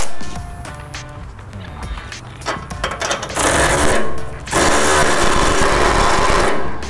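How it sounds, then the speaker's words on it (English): Electric ratchet loosening an 18 mm sway bar link nut, with intermittent buzzing bursts that build into longer, louder whirring runs, close up. "now that I broke it free, it's easier with an electric ratchet"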